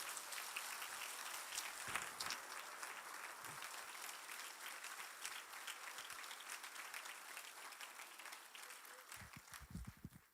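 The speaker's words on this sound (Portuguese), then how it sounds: "Aplaudamos o nosso Pai por isso." A church congregation applauds together during a Portuguese-language sermon, a dense sustained roomful of clapping that carries on for several seconds, with a few louder close claps near the end.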